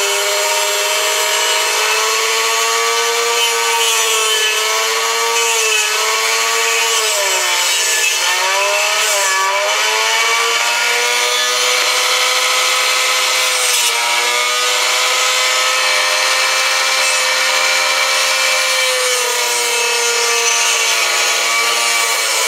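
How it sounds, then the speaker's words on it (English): Wooden arrow shafts are tapered at the nock and point ends with a taper tool, a continuous close-up whining, grinding rasp that wavers slightly in pitch and never pauses, with no talking. "I'm putting a nock taper and a point taper on each end"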